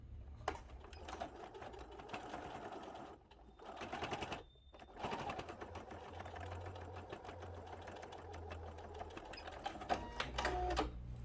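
Sewing machine stitching fabric for a waist bag, short backstitch bursts at the start and end around steady runs of rapid needle clatter, with brief pauses between passes; no voices.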